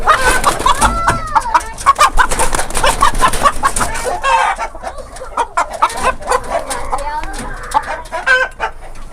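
Barbu chickens cluck and squawk in a rapid, busy chatter, loud and close, with scattered bird calls overlapping throughout.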